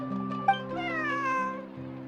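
A cat meows in a video game hangout event with one long, wavering, whiny call that rises and falls, close and clear, with no talk.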